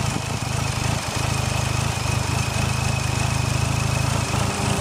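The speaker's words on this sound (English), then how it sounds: "Here's the idle of the stroker." A boosted 2.3 stroker engine in a Mitsubishi Eclipse 2G GST with a GSX 6-bolt swap idles steadily, a close, loud, rhythmic low rumble with no talk.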